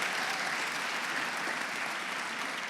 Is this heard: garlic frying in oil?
no